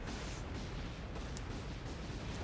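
Rumbling barrage of explosions as a defeated boss blows up in Shantae: Half-Genie Hero, a dense, continuous low boom with occasional brighter pops, steady and loud throughout with no talk.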